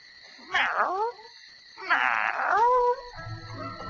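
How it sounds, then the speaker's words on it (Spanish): Cat meowing as a sound effect, two drawn-out wailing meows a second apart, clear and close against silence, followed by a faint low rumble. "El maullido de Tom."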